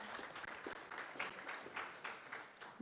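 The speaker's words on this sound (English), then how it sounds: "I'd like everyone to give a big, big round of applause for Black Wall Street" A crowd at a Black Wall Street event applauds, with a few seconds of brisk, continuous clapping that is fairly faint and distant and has no speech over it.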